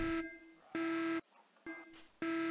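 An electronic alarm in the Baldi video game sounds off in repeated harsh buzzing tonal bursts, about four pulses separated by short gaps, loud and alone with no talk.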